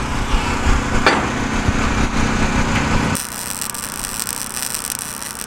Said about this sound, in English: I'm just gonna weld a couple of scraps together to start.